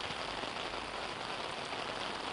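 Heavy rain pours steadily in cold weather in Delhi-NCR, a dense, continuous hiss of drops on surfaces with no break and no voices.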